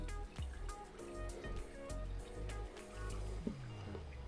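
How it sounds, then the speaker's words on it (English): A tiny creek trickles and gurgles along a backpacking trail to Chin Beach on the Juan de Fuca route, soft and close, with a few brief footstep-like knocks. "Also a little tiny creek down here."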